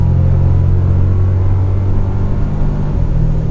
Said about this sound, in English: Let's give it a little more power again.